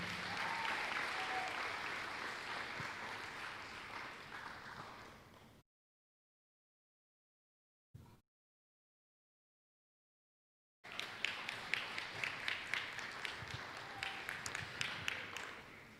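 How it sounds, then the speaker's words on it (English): Applause for graduating students at a high school ceremony comes in two stretches of crowd clapping separated by a silent gap. The first is dense and fading, the second sharper with distinct close claps. "Let's give these students one more round of applause"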